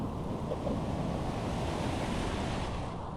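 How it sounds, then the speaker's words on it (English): Atlantic Ocean surf rolls in steadily at Praia do Aterro beach, a continuous broad wash of breaking waves with wind buffeting the microphone, no voices over it. "as in the Atlantic Ocean it's always giving the most beautiful waves here"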